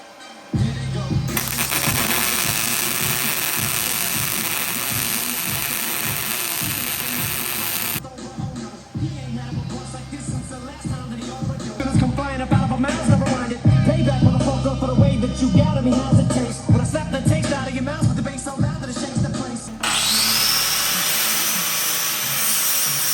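Steel is welded with a 120-volt welder turned up to its highest setting, near a tie rod, producing a loud, steady crackling buzz that runs for about twenty seconds with a brief dip partway through.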